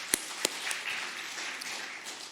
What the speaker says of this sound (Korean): 우리 박수 한번 쳐주시면 감사하겠습니다.